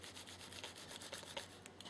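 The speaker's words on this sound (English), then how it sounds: "I can be a little bit more vigorous with my rubbing" Hands vigorously rub wet felted wool fibres around a bar of soap, giving a soft, close, rhythmic swishing of quick repeated strokes with no voices.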